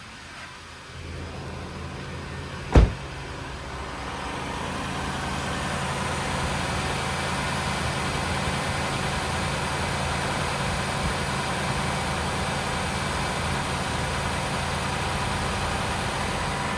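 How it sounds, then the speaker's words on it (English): A 2003 Lexus LS 430 idles steadily after a cold start, a smooth, even engine hum that runs unchanged for the whole stretch, with one sharp knock near the start and no voices. "let's get outside and listen to the engine"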